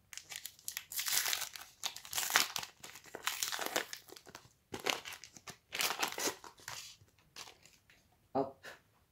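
Foil wrapper of a LEGO Ninjago booster pack being torn open and crumpled, in loud close bursts of crinkling that start and stop several times, with brief pauses between and no talking over them.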